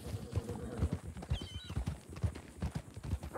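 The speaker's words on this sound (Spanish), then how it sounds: "Pasa mi caballo" Horse hooves clip-clopping at a steady trot in a role-play video game, a regular rhythmic beat of close hoof falls with a brief faint whinny in the middle.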